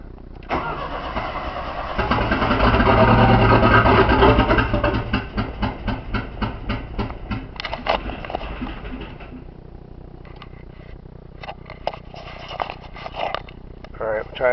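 A Porsche 931 engine cranks and starts, rising to a loud, steady idle that fades into a rougher, uneven idle with throttle blips, up close indoors; brief voices can be heard.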